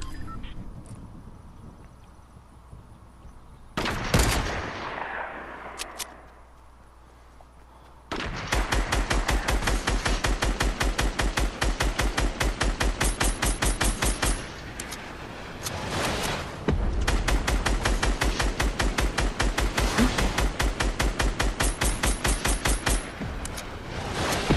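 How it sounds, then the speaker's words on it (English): Gunfire in Fortnite Chapter 2 comes as long, rapid bursts of automatic shots, loud and close, broken by brief pauses and a few single cracks, with game noise between the bursts. "Let's go fucking snipe this guy, dude."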